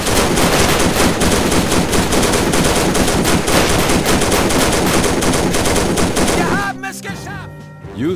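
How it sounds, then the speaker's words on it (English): Sustained suppressive machine gun fire in the World War II strategy game Faces of War, a loud dense rattle of overlapping bursts that suddenly cuts off near the end, leaving a few scattered shots. "your entire group will focus suppressive fire on this target"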